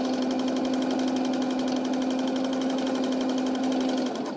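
A sewing machine or serger runs in one steady, fast stitching burst with a strong motor hum and rapid needle chatter, close and loud, ending abruptly.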